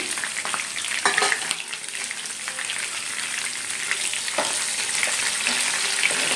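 Slit green chilies fry in hot oil for mango pulihora, giving a loud continuous sizzle with occasional stirring scrapes, close and steady throughout without speech.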